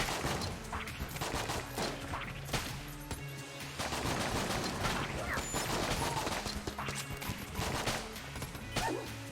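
Rapid video-game gunfire from the SAA revolver in Enter the Gungeon, a dense run of shots with crashes and effects over a steady loud mix, with someone talking over it at times.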